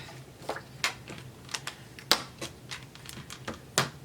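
Cardstock being cut to 3 inches wide for card making, a series of crisp close clicks and snips in an irregular rhythm, heard alone.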